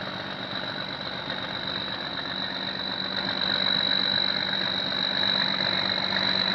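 Cummins diesel engine idling aboard a self-propelled sand barge, a steady loud drone with a constant high whine, rising slightly midway and running continuously without speech.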